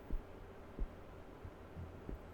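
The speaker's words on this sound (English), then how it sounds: "I'm getting the sound of heartbeat." In the horror video game Song of Horror, a faint, low heartbeat thumps at a slow, uneven pace, with soft muffled pulses spaced under a quiet hum.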